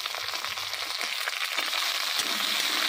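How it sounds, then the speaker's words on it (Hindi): Potatoes dropped into a pan of browned onions, a steady close hiss of frying oil with faint scraping and stirring underneath. "यहाँ प्याज भून चुका है, मैं यहाँ पे डाल रही हूँ आलू"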